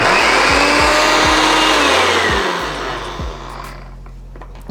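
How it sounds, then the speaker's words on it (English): Garlic being minced with a handheld garlic mincer while preparing a seafood boil: a steady, dense grinding whir with rhythmic low thumps, loud and close, easing off toward the end, no talking. "I'm going to be using this garlic mincer"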